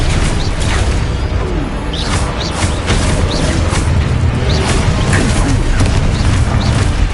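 Confringo fire spells explode during combat in the video game Hogwarts Legacy. The booms and whooshes burst repeatedly over a dense, continuous battle din.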